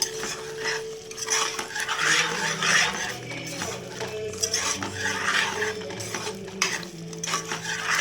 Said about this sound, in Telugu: వేసుకున్న తర్వాత బాగా ఇలా మిక్స్ చేసుకుని